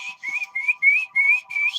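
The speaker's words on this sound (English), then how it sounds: "Whistle to the birds." A person whistles to birds in a series of six short, clear, rising notes, close and fairly loud, each separated by brief pauses, with no talking.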